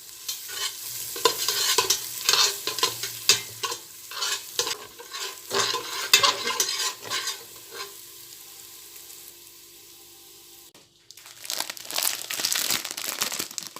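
Salted fish is stir-fried in a pan, with repeated scraping stirs and crackling sizzle in uneven bursts near the microphone, a brief lull, then more stirring; no talk.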